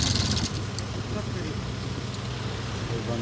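A chain-track JCB excavator stuck in deep mud revs its engine hard, a continuous loud low rumble with steady throttle and rattling, while someone talks over it outdoors.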